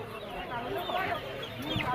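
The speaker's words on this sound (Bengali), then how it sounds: "হ্যাঁ বোঝা যায়, ওদের ডাক আওয়াজ শুনেই বোঝা যায়। হ্যাঁ এইটা আমাদের হাঁস।" Farm ducks calling nearby, a run of overlapping quacking and clucking calls close by, against an outdoor background.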